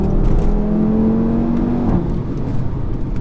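A 2018 Audi RS3 engine pulls hard on a tight B road, a steady loud drone with a rising tone that levels off, heard from inside the car with no talking.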